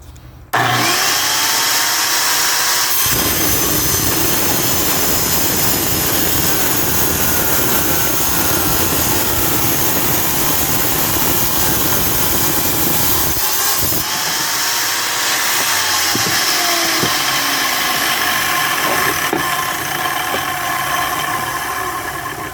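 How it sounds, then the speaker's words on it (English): An angle grinder cutting tile, a loud continuous high-pitched whine and grinding roar that starts abruptly and runs steadily for about twenty seconds, with a few brief changes as the blade load shifts. "I'm going to start by cutting off most of the excess so that I'm not working with as heavy a piece when I'm on the angle grinder"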